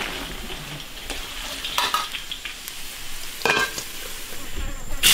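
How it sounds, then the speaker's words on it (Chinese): Ginger, Sichuan green peppercorns and dried chilies stir-fried in a hot iron wok, a steady sizzle broken by sharp metallic scrapes and clanks of the spatula. "生姜、花椒、干辣椒炒香"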